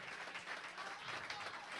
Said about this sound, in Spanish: Denle un aplauso a los hombres de esta casa.